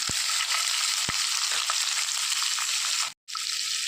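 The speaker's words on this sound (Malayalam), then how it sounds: "ആ സമയത്തേക്ക് നമ്മൾ എടുത്തു വെച്ചിരുന്ന സവോള ചേർത്ത് കൊടുക്കാം" Onions go into a pan of frying drumstick pieces for a Kerala stir-fry, a continuous loud sizzle with a few sharp taps of a utensil and a brief silent cut near the end.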